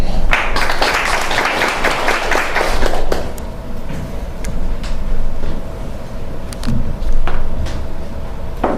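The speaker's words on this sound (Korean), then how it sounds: "박수로 듣습니다" Audience applause at a Korean forum on moving to the countryside, a burst of clapping for about three seconds that then thins into scattered claps over room murmur.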